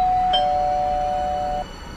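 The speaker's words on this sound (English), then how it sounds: "I think it was the doorbell." A doorbell sounds once indoors: a single clear, sustained electronic tone that rings steadily for over a second and then cuts off, with no talking over it.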